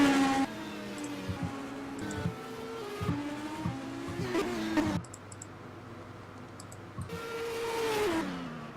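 An MP429 race car is driven flat out in a GP anniversary championship race, heard on board: a loud, busy engine note climbing and dropping through gear changes, with clicks and tire noise over the top.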